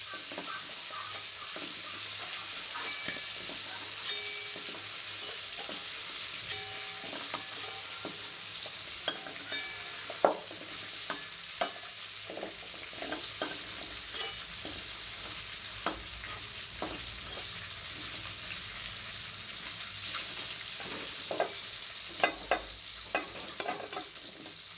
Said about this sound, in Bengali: আমি জিরে আর তেজপাতা শুকনো লঙ্কা ফোড়ন দিয়ে দিয়েছি।